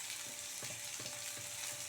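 Lightly salted vegetables fry in a pan with a steady, hissing sizzle, while a few soft stirring scrapes surface at irregular intervals.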